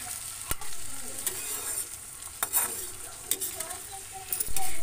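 Corn kernels roast with reddened chilli in hot oil in a wok, a steady bright sizzle broken by several sharp scrapes and clanks of a stirring spoon, close and loud.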